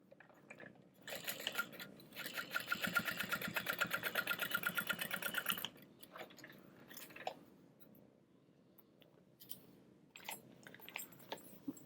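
A sewing machine top stitches across the base of a Scottie convertible bag, running in a rapid, even mechanical rattle for a few seconds before stopping, followed by quiet handling sounds and faint clicks.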